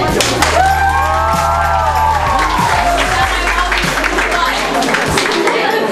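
Audience applause at a school radio station's grand inauguration, loud and sustained over about five seconds, mixed with cheering, music and a crowd's voices before tapering off.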